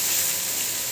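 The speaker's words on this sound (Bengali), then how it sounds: "এবার নেড়ে চেড়ে পেঁয়াজটাকে লাল লাল করে নেব।" Chopped onions frying with cumin seeds and bay leaf in a pan for chicken curry, giving a steady close bright sizzle that holds even for a brief moment.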